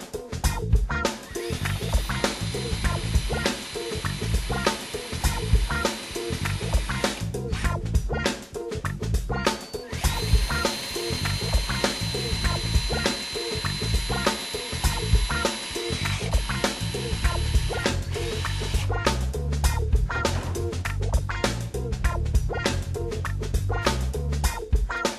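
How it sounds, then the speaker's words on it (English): Self-drilling screws are driven into pipes and a T-shaped connector, giving a close, loud, continuous ratcheting whir that runs in repeated bursts with short pauses between them. "let's try attaching three pipes to this T-shaped connector with self-drilling screws."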